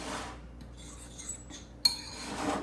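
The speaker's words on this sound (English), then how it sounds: "Give it a good stir." A utensil stirs banana nut bread batter in a bowl, making soft scraping and a few light clinks, with one sharp knock against the bowl near the end, close and fairly quiet.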